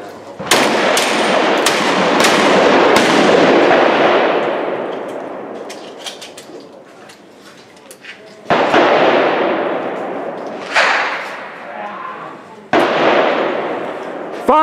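Tactical 12-gauge shotgun fired outdoors on a range, several sharp loud blasts in quick succession early on followed by a few more spaced shots, each ringing out with a long decaying echo, with shouted commands between.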